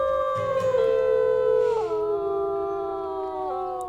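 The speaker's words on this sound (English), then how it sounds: "Go ahead and give this a howl." A wolf howls in the WolfQuest video game, one long, loud, sustained tonal howl with layered harmonics that slides downward in steps and fades slightly toward the end.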